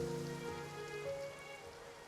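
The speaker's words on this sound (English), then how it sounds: "It rained for longer than I suspected." Rain falls in the fantasy video game Genshin Impact as a steady, even patter with a continuous hiss. It runs alone at moderate loudness with no voices, backed by faint sustained musical tones.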